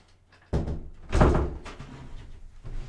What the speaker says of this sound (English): I just gotta close my door because my dogs are gonna keep busting in.